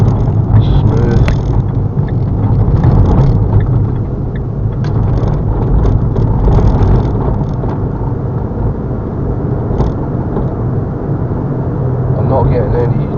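A Ford car engine runs smoothly with a steady low rumble and mechanical whirr, apparently heard from inside the car. It is loud and constant, and a voice talks intermittently over it.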